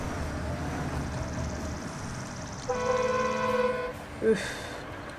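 A truck horn in the video game Construction Simulator sounds one long, loud, steady blast over a low engine rumble. A short second toot follows soon after, and a voice gives a brief exclamation.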